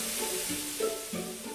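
Meat browning in a hot frying pan, a steady close sizzle with faint stirring and turning scrapes throughout.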